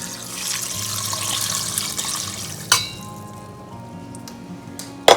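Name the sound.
pouring vegetable stock into a pot of asparagus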